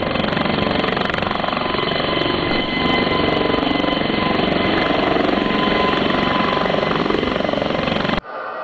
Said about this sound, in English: The sound of the blades is sick too.